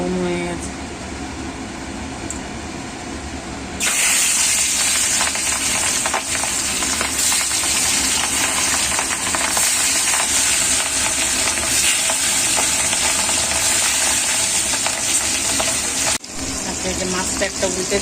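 Fish sizzle loudly in hot oil in a home kitchen, the frying hiss swelling steadily and holding for a long stretch after a quieter start, with a brief break near the end.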